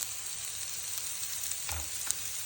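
Whole fresh green chickpeas sautéing in a pan with red chilli powder and spices for a dry channa dish: a steady close sizzle and fry, with a brief stir of the pan near the end.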